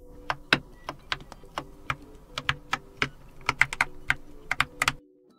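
Keys clacking on a Keychron K8 mechanical keyboard, close and clear, in an irregular run of sharp, distinct strokes, some fast and bunched together, ending abruptly with no voices.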